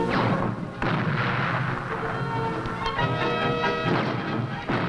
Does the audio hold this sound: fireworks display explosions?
yes